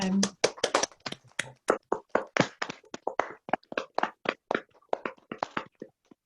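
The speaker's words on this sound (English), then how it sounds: "if we can all give everybody a big round of applause" Several people on a video call clap at once, a scattered, uneven patter of separate hand claps that stays fairly close and thins out toward the end.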